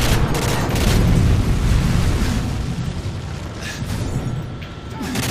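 Predator missile strike in a Call of Duty-style video game, a deep, sustained rumbling blast with broad roaring noise that swells over the first seconds and slowly tails off, loud and close with no talk over it.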